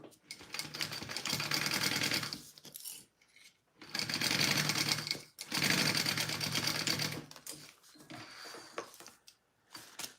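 A sewing machine stitching the lining of a sling bag, running in long, loud, steady bursts of rapid needle clatter and stopping briefly between seams.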